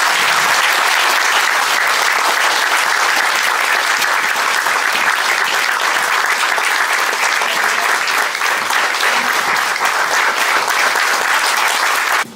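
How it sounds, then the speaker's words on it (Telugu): Loud, sustained applause from an audience at an awards event, with the crowd clapping steadily and densely for about twelve seconds before it cuts off abruptly. "గట్టిగా క్లాప్స్"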